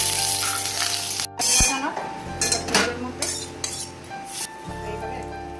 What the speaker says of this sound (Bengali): কড়াইয়ের মধ্যে সাদা তেল দিয়ে দিয়েছি। তো ফোড়নের জন্য দিয়ে দেবো একটা শুকনো লঙ্কা আর সর্ষে, দিয়ে দেবো কারি পাতা